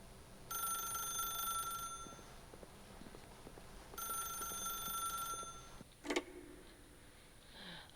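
Telephone in The Stanley Parable video game ringing in two long bursts of bright electronic trills separated by a pause, fairly quiet, followed by a brief click, with no talk.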